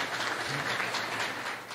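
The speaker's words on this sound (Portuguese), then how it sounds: "Merece uma salva de palmas ela" Audience applause at a church gathering: a dense, even wash of many hands clapping together, held at steady loudness for the short stretch with no voices.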